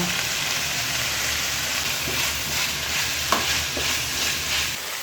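Curry leaves frying and being stirred in a pan of samosa filling with potato, a steady loud sizzle with occasional soft scraping stirs throughout.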